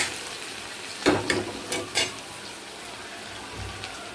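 Whole dry chillies, cumin and garlic frying in hot oil, a low steady sizzle broken by a few sharp spatters and stirring clatters early on, then settling back to a quiet crackle.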